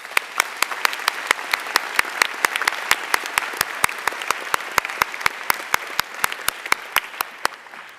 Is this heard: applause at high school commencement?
yes